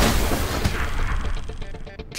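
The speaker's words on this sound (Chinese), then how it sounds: "这个声音听起来跟新闻上的爆炸声很像呢。" Explosion-like boom in a Chinese children's animated cartoon: a loud, broad rumbling burst that rings on and fades over about two seconds, with no voices over it.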